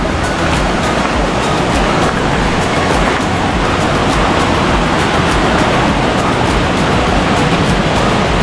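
Many streams of water rush near Rathna Ella waterfall in Sri Lanka, making a loud, dense, unbroken roar that holds steady throughout. No voices are heard.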